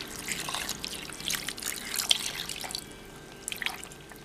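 Water poured into jaggery syrup in a pan for payasam gives a faint close trickle and scattered drips, uneven splashes over a low steady background, with no talking.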